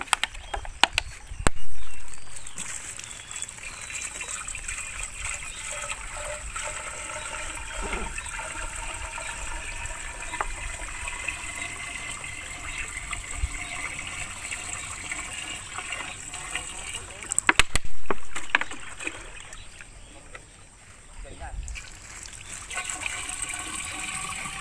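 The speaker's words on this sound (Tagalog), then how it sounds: "nilalagyan na ng tubig para daw may pondo" Deep well water runs into a container, a steady close stream and trickle lasting throughout with louder splashing surges near the start and again later, and faint voices in the background.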